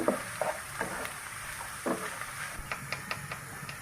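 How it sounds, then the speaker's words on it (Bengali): Spice paste fries in a pan for a beef curry, with soft crackling sizzle and intermittent stirring scrapes and clinks against the pan, close and moderately loud, with no talking. "এইভাবে আমি মশলাটা ভেজে নিচ্ছি"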